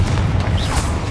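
Confringo fire spell cast in the Hogwarts Legacy video game, a loud, dense booming burst with low rumble sustained through the second, no talk over it.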